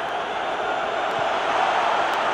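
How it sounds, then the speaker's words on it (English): Stadium crowd noise in the football video game PES 2020 during a Euro 2020 quarter final, Norway versus England: a steady, dense murmur of many fans, broad and even throughout without distinct cheers. "Crowd appreciates good football all round there."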